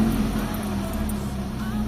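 A Mitsubishi Lancer GLi with the check engine and oil warning lights on, and several failed sensors, runs at a steady, close idle with a low, even hum, and a voice talks briefly over it.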